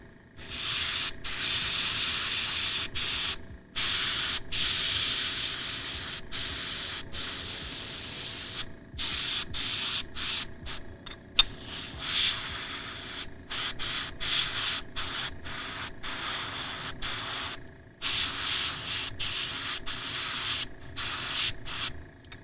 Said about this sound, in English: don't care about overspray on the shoulder, sorry, on the pants below